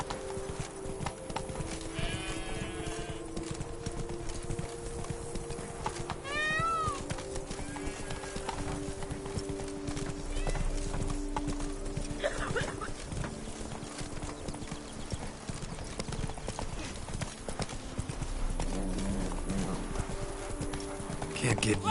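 Hooves of the horse in The Witcher 3 clip-clopping in a steady gallop throughout, with a whinny and voices talking over the rhythmic beat.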